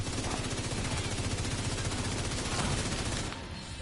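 Dense, continuous automatic gunfire from The Division 2 with rapid rattling bursts, loud and close, filling the whole span and easing slightly near the end.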